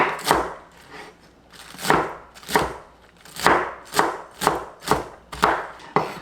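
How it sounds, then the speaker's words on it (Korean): A knife cuts cabbage into small pieces on a board, with about ten crisp, evenly spaced chops ringing out close and loud in a steady rhythm. "양배추 작게 잘라줄게요."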